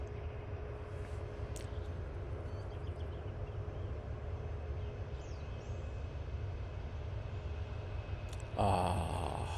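Distant airliner landing at Manchester Airport, heard as a steady low jet rumble and hum that persists throughout at a faint level, with a brief louder burst near the end.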